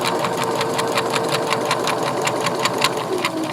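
A sewing machine runs steadily, stitching a drawstring bag seam with the presser foot edge guided along the seam, its rapid, even needle clatter continuous and close throughout.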